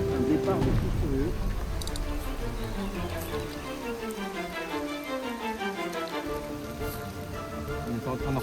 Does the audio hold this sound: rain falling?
yes